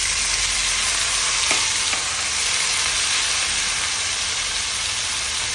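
Shredded cabbage sautés in a hot pan for a Kerala-style thoran, giving a dense, steady, loud sizzle with a couple of faint knocks and no talking.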